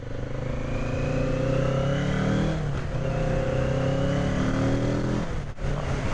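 A Kawasaki Z650 with its stock exhaust revs loudly up close, the engine note climbing in repeated sweeps with brief drops between throttle blips, a smooth, throaty tone.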